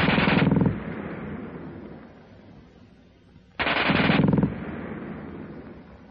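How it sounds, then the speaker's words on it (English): A German WWII machine gun fires two loud, very fast bursts, one at the start and one after a roughly three-second gap, each followed by a decaying echo. "the German gun fires faster than anything you've run into before"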